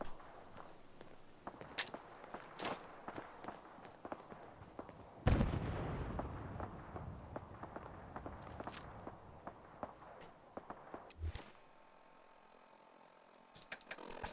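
Bombing explosions in the video game Sim Settlements 2 land as a few distant booms, one heavier blast followed by a rumbling tail, among scattered footsteps and clicks.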